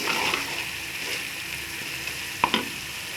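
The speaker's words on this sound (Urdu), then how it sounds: "اس مسالے کو اب اچھی طرح بھونیں گے" Masala with onions and bitter gourd frying in a pan for qeema karela, a steady close crackling sizzle throughout, with a couple of brief stirring knocks near the end.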